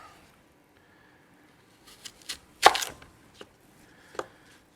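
A knife slices an apple thin on a cutting board, giving a few quiet, separate cuts, with one louder chop in the middle, and no one speaking.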